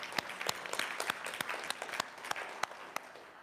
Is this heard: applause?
yes